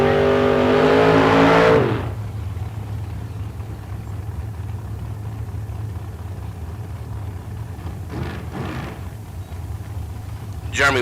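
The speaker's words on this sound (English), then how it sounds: "there is Jeremy Wilson right there in the dragster." A dragster race car roars loudly at a bracket race for about two seconds, then cuts off, leaving a low steady engine rumble and faint background noise.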